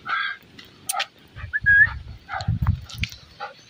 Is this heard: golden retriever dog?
yes